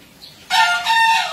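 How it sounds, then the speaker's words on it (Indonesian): Bekisar rooster crowing at a contest entry in Bekasi: a single loud, close crow starting abruptly, with a brief dip midway and a long sustained tail, alone without talk. "Nama ayam Jatayu."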